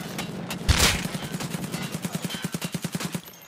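Sustained automatic gunfire in a shooter game, a fast, steady rattle of rounds punched through a wall, opening with a loud blast and continuing rhythmically at close range.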